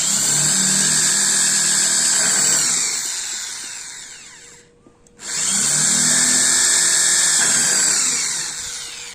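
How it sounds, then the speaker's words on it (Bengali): A Mailtank SH-30 impact drill bores into a metal aluminium-style heatsink in two loud, sustained runs: the motor whines and grinds at full speed, winds down almost to silence for a moment, then surges back up for a second long pass. "চলুন এবার এই হিটসিংটা ড্রিল করে দেখি"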